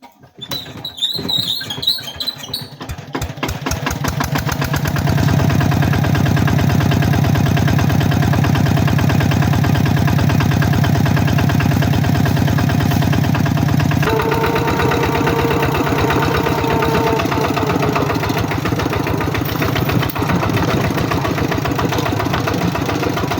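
A farm tractor starts up and then idles close by, settling into a loud, steady mechanical chug that runs on evenly with a slight shift in tone partway through.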